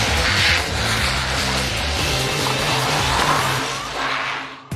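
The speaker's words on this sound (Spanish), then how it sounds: "me está enseñando a utilizar estos mandos a distancia para dirigir estos coches" Remote-controlled cars race around a track, their small motors whining and tires squealing and skidding in a dense, continuous burst that fades briefly near the end before a sharp final knock.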